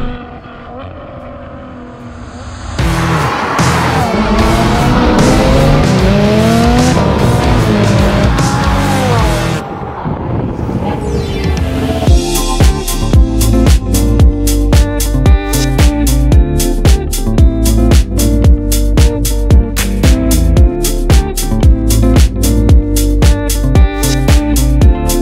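Ferrari F12 Berlinetta V12 supercar engine, heard loud and close as a sustained roar with sweeping pitch changes from revving, then a rapid pulsing, crackling rhythm as the engine runs hard; no talking.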